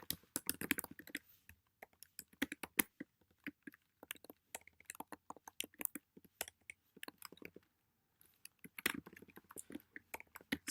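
Quiet, close keystrokes patter in uneven bursts as R code is typed on a computer keyboard, with short pauses between runs of clicks.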